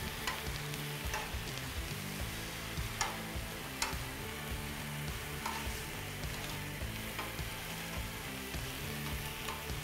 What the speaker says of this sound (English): while your ham's cooking, it's gonna be quick